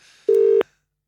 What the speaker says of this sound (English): Why you called Luke's phone?